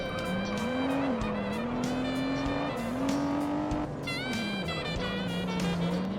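Race cars in the Japanese Supercar Series of the Juiced video game roar past with a sustained engine drone that shifts pitch, mixed with tire squeals and skids, loud and continuous.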